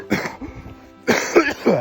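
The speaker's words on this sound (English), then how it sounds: "Excuse my coughing." A person coughs several times up close, short harsh bursts with a throat-clearing rasp between them.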